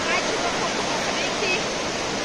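The Iguaçu River waterfall complex roars as a loud, steady wash of falling water, dense and unbroken from start to end, with no talking heard.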